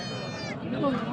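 Lambs bleat at the Mecheri goat market in Salem, with one short, close bleat under a person talking.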